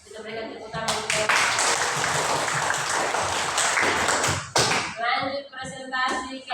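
Classroom audience applauds a student group after a presentation, a dense wash of clapping lasting about four seconds, then fading as a voice begins talking over the tail.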